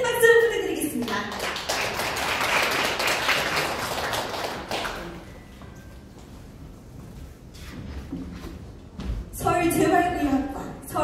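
Audience applause at an award ceremony for a literary prize, a sustained burst of clapping from a crowd in a hall that rises for several seconds, fades, then swells again near the end, with a voice speaking over it.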